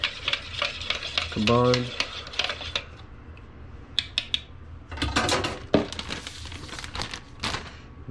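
Brown sugar and honey marinade being whisked in a bowl for smoked panfish, outdoors in wind: scraping stirring taps and strokes come in short bursts, close and moderately loud, alternating with a person talking.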